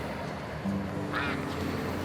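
A duck gives a single short quack amid a low steady background hum, fairly faint and heard alone without talk.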